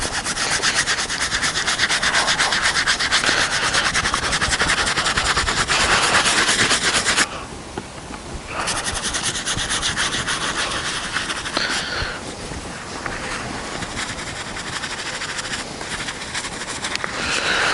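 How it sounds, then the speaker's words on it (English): A Magic Eraser rubs briskly back and forth on a DC shoe with a soft fabric upper, a loud continuous scrubbing with one short pause midway. "So the Magic Eraser is going to work good on this shoe"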